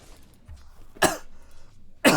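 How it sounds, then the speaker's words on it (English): Two sharp, loud coughs from a man during a Dota 2 gaming session, about a second apart, with quiet room noise between them. "My cough has really distracted me."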